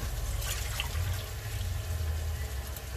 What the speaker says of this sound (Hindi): 4-5 मिनट भूनने के बाद अब इसमें मैं पानी ऐड कर रही हूँ।